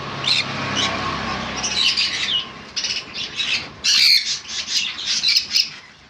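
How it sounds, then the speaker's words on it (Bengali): Yellow-sided and pineapple conures squawk and chirp in repeated harsh, shrill bursts, several birds calling close by with no talking. "ইয়েলো সাইড কনুর যে পাখিটা ভাই দেখতে পাচ্ছ, এটা ইয়েলো সাইড কনুর"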